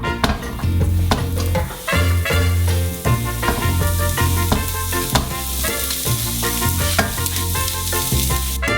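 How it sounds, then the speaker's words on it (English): Vegetables fry in a pan on a stovetop with a loud, steady sizzle, broken by occasional stirring clatter and scraping close by. "We'll put some vegetables in one of them."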